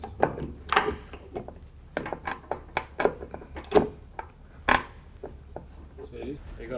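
End caps of a Hills retractable wall-mount clothesline are pushed and knocked back into place, giving a series of sharp plastic clicks and taps at an uneven pace, close by, with a voice heard briefly among them.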